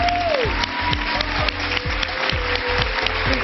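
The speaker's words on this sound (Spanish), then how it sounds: "Recibamos con un fuerte aplauso a las actrices" Studio audience applause on a Spanish-language television talk show, steady dense clapping throughout with music playing underneath.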